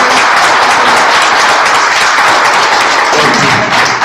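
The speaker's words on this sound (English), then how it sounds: "Please give Amy a big round of applause" A poetry reading audience claps for the poet in a dense, loud, continuous wash of applause that holds steady throughout with no voices.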